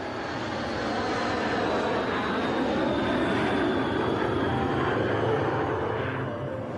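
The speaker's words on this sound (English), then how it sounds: "And here she comes, the 787 Dreamliner." A Boeing 787 Dreamliner airliner with Rolls-Royce engines roars steadily on its first flight, a loud, broad jet rumble with a faint descending whine, continuous and without talk.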